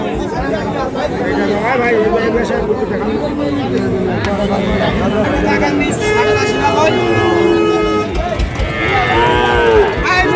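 Sahiwal bull calves moo repeatedly at a busy rural cattle market in Bangladesh, their loud, drawn-out calls rising and falling over steady crowd chatter and bargaining voices throughout.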